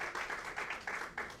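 Audience applause at a women's conference session, a brief, fairly quiet burst of many hands clapping with small rhythmic swells and no talking.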